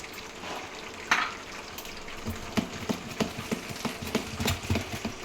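Dosa batter made with leftover idli and dosa batter plus maida flour is stirred in a bowl, with wet slapping and thudding strokes that quicken into a steady rhythm toward the end.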